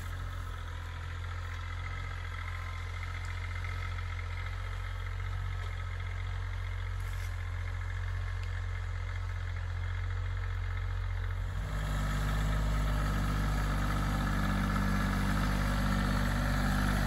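A Kioti tractor with a seeder mounted on the back runs at idle with a steady low engine drone, then grows noticeably louder and deeper partway through as it draws nearer or revs up.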